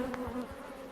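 Bees buzzing at a hive while they attack their queen, a continuous close insect hum filling the moment with no voices.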